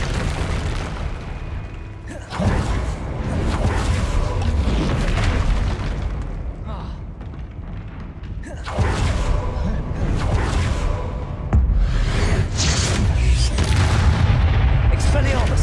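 Spell blasts and explosions from Hogwarts Legacy thunder in loud, dense bursts, with sweeping whooshes between repeated booming impacts.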